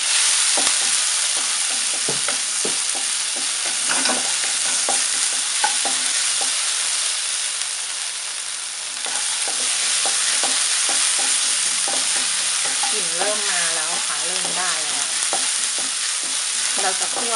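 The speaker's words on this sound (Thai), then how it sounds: "เพื่อที่จะผัดพริกแค่นั้นเองให้พริกมีกลิ่นหอมหอมพริกกับกระเทียมลงไปก่อนนะคะ" Chili and garlic stir-fry in hot oil, giving a steady loud sizzle throughout, with frequent scraping and clinking of a spatula against the pan and no talking.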